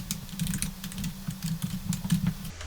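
Quick, steady typing on a computer keyboard while entering data into an Excel form, a close, continuous run of light key clicks with no talking.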